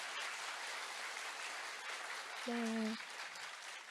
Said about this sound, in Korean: 우렁찬 박수 감사합니다